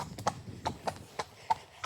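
Hooves of a ridden horse clip-clop on a British country lane, a handful of distinct hoof strikes in uneven rhythm, close and moderately loud, with no talking.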